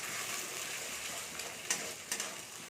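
Eggs, beaten and broken into small scrambled bits for bhujia, frying in hot oil with salt, giving a steady close crackling sizzle with a couple of sharper spatters, no talking.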